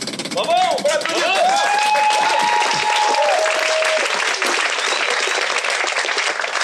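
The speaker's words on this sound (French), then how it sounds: "Bravo, on peut l'applaudir." Audience at an improv theatre show applauding, a loud sustained wave of many clapping hands with an excited voice rising over the start of it.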